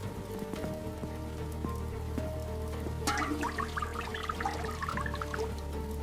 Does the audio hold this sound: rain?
yes